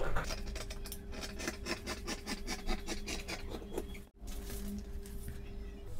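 Scissors or a blade working along the edge of net fabric for a lehenga cancan layer, a steady close series of rhythmic rasping scratches that pauses briefly before resuming, no voices.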